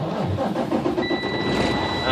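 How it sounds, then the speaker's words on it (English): A truck engine turns over and settles into a loud, steady rumble inside the cab during a CDL air brake test, with a thin whine running on top and someone talking over it. "so I'm going to turn on the engine"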